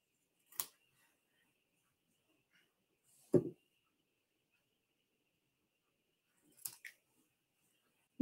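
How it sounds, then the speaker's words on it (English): Scissors trim a paper card in a quiet crafting setting, making three separate crisp snips spaced a few seconds apart. "I think I'm going to trim it."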